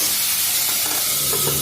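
Chillies sizzle in hot oil in a kadhai with mustard seeds and cumin for a tempering, giving a steady, close frying hiss with faint crackles throughout.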